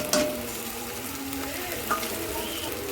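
Chili paste hitting a pan of chicken curry sets off a loud, steady sizzle with stirring scrapes, a sharp burst at the start and a smaller flare near the end.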